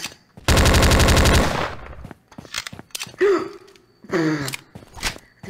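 Rapid burst of automatic gunfire in the horror video game Slendytubbies III, loud and close for about a second, followed by scattered clicks and short vocal gasps or groans.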